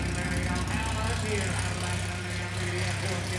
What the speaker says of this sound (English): Oh, man, that is some throaty goodness out of a Copo Camaro from 2013